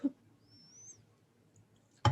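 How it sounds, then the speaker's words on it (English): A squeaky bird gives a single thin, rising whistle, faint and brief, set against quiet room hush with soft thumps at the start and end. "It's like some fucking squeaky ass bird or some shit"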